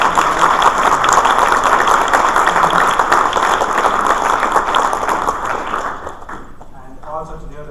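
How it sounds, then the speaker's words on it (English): An audience at a public symposium session breaks into sustained, full applause that fades out near the end as a voice resumes speaking. "Give a special round of applause."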